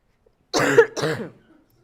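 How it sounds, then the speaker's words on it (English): A person in a university lecture hall gives two quick, close coughs with a brief pause between them, then the room falls quiet. "sorry about the way the coughing sounds"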